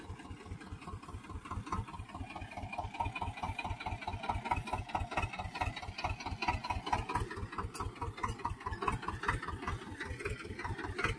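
A Swaraj 724 tractor engine, fitted with a 6x6 disc harrow, idles steadily up close with a fast, even low thump that stays constant throughout, with no talking.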